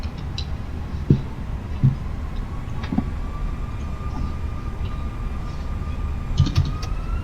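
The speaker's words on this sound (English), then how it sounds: "sort of spool the engines up" Fenix A321 engines spooling up for a rolling takeoff in Microsoft Flight Simulator 2020, a rising tonal whine over a steady low rumble with a few light clicks scattered through.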